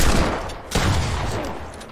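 Rapid burst of Fortnite gunfire, a loud volley of shots fired close up, dipping briefly before a second sharp salvo that trails off over two seconds.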